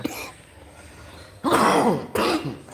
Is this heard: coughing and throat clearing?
yes